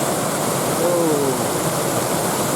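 Fast-flowing mountain stream water on the road to Nainital near Kaladhungi, a steady loud rushing hiss close by, filling the whole stretch without pause.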